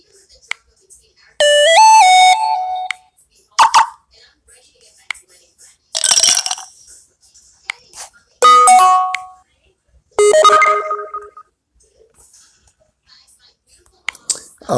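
Notification tones on an LG K20 phone played one after another: several short, bright electronic chimes and jingles with brief silent gaps between them, close and clear.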